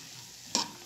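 Red and green bell peppers, onion and garlic frying in a couple of spoonfuls of oil, a steady low sizzle with one short burst of louder hiss when stirred.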